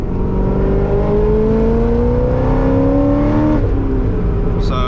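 Chevrolet Corvette C6 Z06 accelerating hard, a loud, close engine note rising steadily in pitch for several seconds before easing off near the end, with no talking.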